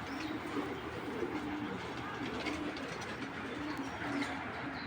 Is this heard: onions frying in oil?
no